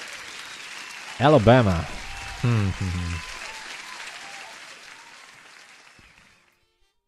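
A live-stream audience claps in a broad, steady wash of applause while someone speaks over it, the clapping slowly fading away to silence.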